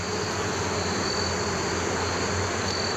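Honeybees in an opened beehive after a hive combine give off a dense, steady buzzing hum that holds constant throughout, close and continuous, with no voices.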